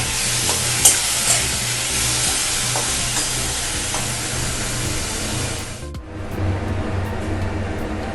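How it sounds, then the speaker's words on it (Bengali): Prawns frying in oil in a wok, a loud, steady hiss and sizzle with stirring clatter, dropping briefly near the end before the sizzle resumes. "আমি চিংড়ি মাছটাকে একটু ভেজে নেব ভালো করে আমি চিংড়ি মাছটাকে একটু ভাজবো"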